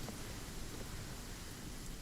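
Steady, dense rain in the Genshin Impact video game world, a continuous even wash of falling drops with a low rumble underneath, filling the whole clip without any voices.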